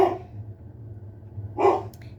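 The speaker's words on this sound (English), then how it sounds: "Confirmation the dogs are barking." Two dogs' barks sound at a distance, one at the start and another near the end, over a low steady background hum.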